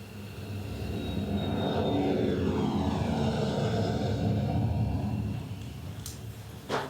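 An airplane in flight, played as a stage sound effect in a theatre production, rumbles loudly and steadily with engine drone and a descending whine, then fades near the end under a brief clatter.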